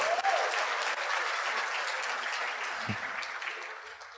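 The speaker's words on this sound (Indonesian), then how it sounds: "tepuk tangan buat istri saya ya" Steady, full applause from a large audience, dense clapping that holds evenly and tapers slightly toward the end.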